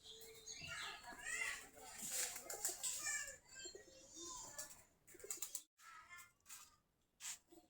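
Domestic Giribaz pigeons, a local breed kept in a flock of around forty pairs, perched together and cooing softly, with scattered chirps over a steady background.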